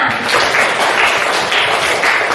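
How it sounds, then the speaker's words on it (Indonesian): Loud, close group clapping in a classroom, in a rough rhythmic pattern, many hands striking together with a slightly pulsing beat. "Mari kita tepuk tangan sama-sama."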